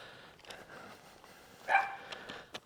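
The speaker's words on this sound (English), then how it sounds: "you got a dog going off and the lady going off at the dog" A dog barks a few times at a distance behind houses in a quiet coastal suburb of Perth, the short yaps faint and scattered over low background ambience.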